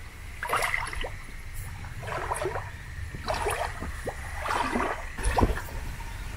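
Icy cold mountain water flows and splashes in a Kneipp pool in the Tyrol mountains, with steady trickling and bursts of sloshing in uneven surges, fairly close and alone without talk.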